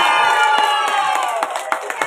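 An audience at a prize ceremony for an arts and culture festival cheers and applauds, a dense burst of shouting, whooping and clapping, loud and close, for about two seconds.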